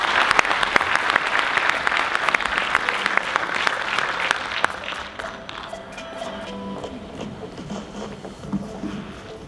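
Audience at a congress opening ceremony applauding as a speaker walks to the stage, loud dense clapping that gradually thins and fades toward the end.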